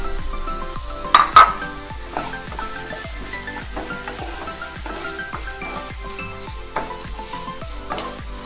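Carrot is sautéed with other vegetables in a pan for a chicken sandwich filling. A spatula scrapes in quick, regular strokes about twice a second over a constant sizzle, with a few sharper metallic clinks close by.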